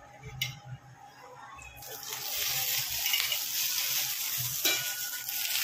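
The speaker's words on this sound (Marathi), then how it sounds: "आणि आरामात मिरची फ्राय करायची चांगली" Roasted green chilies sizzle in hot oil in a pan for a Maharashtrian green-chili chicken curry, starting with a few light taps before a steady, loud frying hiss takes over.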